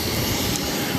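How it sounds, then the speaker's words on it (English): A Japan Airlines Boeing 787 Dreamliner taxis at Boston Logan Airport with a steady, loud jet engine roar that holds without a break. "We have the Japan Airlines Dreamliner taxiing over to 22 left for takeoff to Tokyo"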